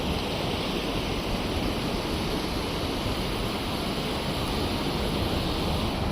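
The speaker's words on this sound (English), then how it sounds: "This river flows on. I'm just going to give you a bit of that sound right now." A river flows steadily outdoors near Durham Cathedral, its broad continuous rushing wash loud and unbroken, with no other sounds standing out.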